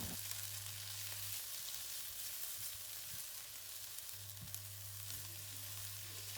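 Cauliflower fries in oil in a pan with a steady, close sizzle and occasional stirring sounds, alone without any talk.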